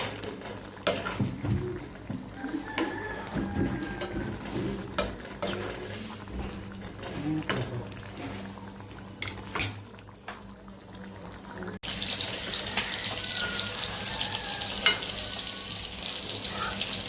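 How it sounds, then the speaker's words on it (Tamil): Prawn masala sizzles and bubbles in a pan as it is stirred, with occasional scrapes and clicks of the spoon; the frying hiss grows fuller and louder in the last few seconds, with no talking. "அப்பப்போ கிண்டி விட்டுக்கோங்க, அடி பிடிச்சிடும்."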